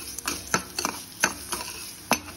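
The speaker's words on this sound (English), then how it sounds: "Fry nicely." Coriander leaves frying in a pan for a South Indian lady finger vathakuzhambu, heard as irregular close scraping and stirring strokes of a utensil against the pan over a soft sizzle, with no talk.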